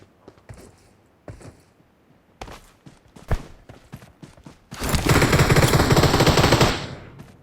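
Shotguns fire in a third-person shooter quick match: several sharp, scattered shots ring out close, then a loud, dense burst of gunfire lasts about two seconds before fading.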